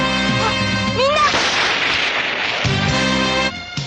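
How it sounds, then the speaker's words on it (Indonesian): Gunshots in the Bioman tokusatsu TV show: a burst of loud blasts and zapping shots fired from above amid a battle with many soldiers, layered with a swooping tone and dense noise. "Tiba-tiba dari atas meluncurkan tembakan."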